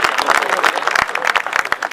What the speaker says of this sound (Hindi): एक बार जोरदार तालियां भाई नरकंकाल के लिए